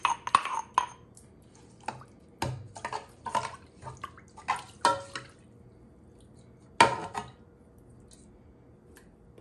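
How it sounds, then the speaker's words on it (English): Water being poured into a cooking pot while making Jamaican scotch bonnet pepper shrimp, heard as a few short splashy bursts and drips separated by quiet gaps, close and modest in level. "Pour it out. You don't need much water either."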